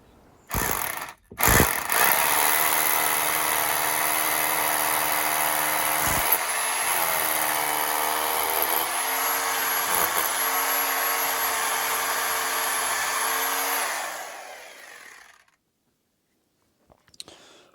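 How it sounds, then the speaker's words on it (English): A power drill bores a hole into the ground for a gate hinge, running loud and continuous for about twelve seconds with slight pitch dips under load before winding down and stopping, a couple of brief knocks at start and end. "drill a hole in the ground"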